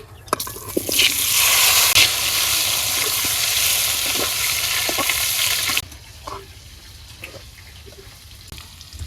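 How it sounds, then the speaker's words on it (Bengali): Loud, steady sizzling of potatoes frying in hot oil, with occasional stirring clinks; the hiss drops off sharply partway through, leaving quieter crackles. "এই তেলে আমি আলু কেটে ভাজিয়ে নেই"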